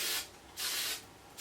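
Hairspray hisses from an aerosol can onto hair in three short, close bursts with brief pauses between them.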